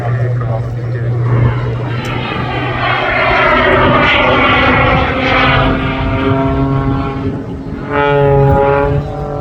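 A Pitts aerobatic propeller biplane flies at an airshow, its engine droning steadily and rising and falling in pitch as it manoeuvres. The sound is loud and continuous throughout.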